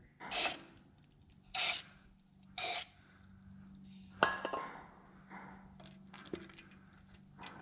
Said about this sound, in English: just gonna spray a little bit on each one of these bolts, a little bit up in on the holes here